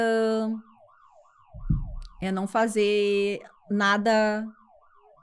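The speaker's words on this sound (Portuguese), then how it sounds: "Produção, tô escutando um alarme" An alarm near a studio sounds as a repeating, warbling siren-like tone that rises and falls steadily, partly under people talking.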